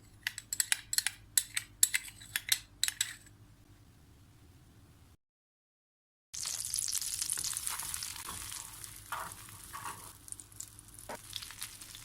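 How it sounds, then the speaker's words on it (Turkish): Two tablespoons of butter sizzle in a frying pan as the sauce for ezogelin lentil soup is started, a bright crackling fizz that follows a run of sharp clicks and a short silent gap. "Tavamızın içerisine ilk olarak 2 yemek kaşığı tereyağını ekliyoruz."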